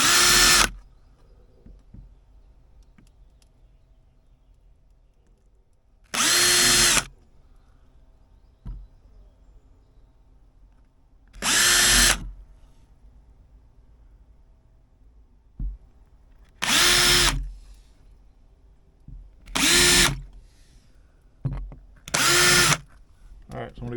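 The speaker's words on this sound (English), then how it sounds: "Alright, so I'm going to go finish drilling those holes." A power drill bores pilot holes through a Lexan crawl space vent cover in six short, loud bursts of high whirring separated by quiet pauses, close by.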